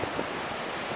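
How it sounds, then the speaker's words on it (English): A steady, broad rush of wind sweeps across a cloudy beach at South Palm Beach. Surf hiss blends in, with light buffeting on the microphone and no one talking. "It's a windy day,"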